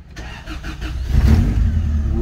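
A Honda Civic Genio with a 5-speed manual cranks with a few quick starter chugs, then catches and fires up into a loud, close engine roar that settles into a running rumble.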